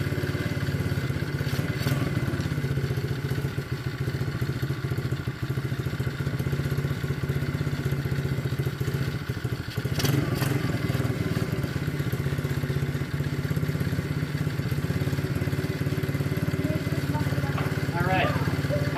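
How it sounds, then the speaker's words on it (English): A brand-new Orion RXB 90cc pit bike engine held at a high idle, a steady loud buzzing drone that runs without a break, close up. "I'm gonna let the idle stay high like that for about 5 minutes or so, just to kind of seat the rings."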